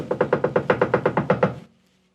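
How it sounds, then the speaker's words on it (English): Loud knocking on a closed, locked door: about a dozen firm, evenly spaced raps in quick succession, close and resonant, then silence. "they begged, knocking loudly"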